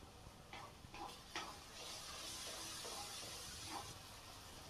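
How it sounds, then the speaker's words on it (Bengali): Spices with turmeric and chili powder sautéing in a pan for fish curry, a soft steady sizzle and hiss with a few faint clicks from stirring, quiet and close. "এবার এই সব মশলাগুলোকে আমি ভালো করে কষিয়ে নেব।"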